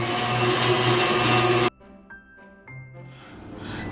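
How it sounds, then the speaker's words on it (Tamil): Electric beater whipping a cashew ice cream mixture at high speed: a loud, steady whirring drone that cuts off abruptly partway through, leaving faint clinks and low rumbles. "ஸோ நாங்கள் இன்னும் கொஞ்சம் நேரம் இதை பீட் பண்ணி எடுப்போம்."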